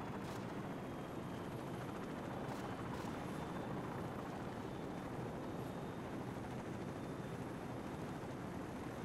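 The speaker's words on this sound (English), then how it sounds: "Crew, be advised, friendly helicopters entering the area." Helicopters fly overhead in the video game Call of Duty 4 on Xbox 360, a dense continuous rotor roar with pulsing chop that stays constant and full throughout, no voices heard.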